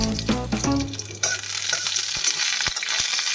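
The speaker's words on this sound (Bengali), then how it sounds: "সর্ষের তেলে কালো জিরা আর কাঁচা লঙ্কার ফোড়ন দিয়ে" A loud burst of sizzling as nigella seeds and green chilli hit hot mustard oil, settling into a steady crackle with a few sharp pops.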